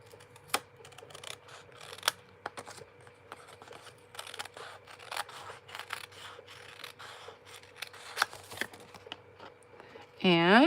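Scissors snipping paper for a fussy cut in card making, quiet small cuts and rustles scattered throughout under soft background music, with a brief louder sound at the very end.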